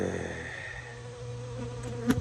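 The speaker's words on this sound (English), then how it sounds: "I got a bee crawling up my back inside my shirt again." Honey bees buzzing close by at an opened Layens hive, a steady droning hum with a sharper passing whine near the end.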